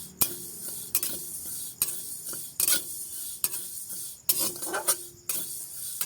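Oil sizzles softly in a pan over a lowered gas flame while making Bengali mango pickle. Sharp utensil scrapes and clinks against the pan repeat at uneven intervals.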